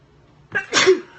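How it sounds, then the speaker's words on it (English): A single loud sneeze with a short intake of breath before it, close by, in an otherwise quiet room. "Excuse me, I'm about to sneeze."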